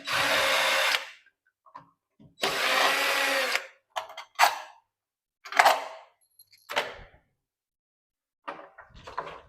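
Screws being driven out of an old door lock with a power driver: two sustained whirring bursts, then a run of shorter buzzes, clicks and rattles of loosened parts, close and fairly loud with quiet gaps between.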